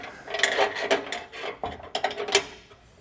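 A hand ratchet tightens bolts on trailer bumper adapter brackets for a 2021 Dutchmen RV, with quick bursts of close metallic clicking in short uneven strokes.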